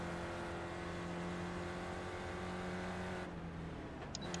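A Spec Racer Ford in iRacing at Sebring drones loudly and steadily as another race car passes, the engine roar fading slightly near the end.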